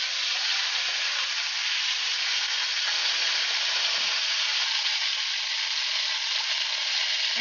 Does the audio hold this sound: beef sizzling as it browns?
yes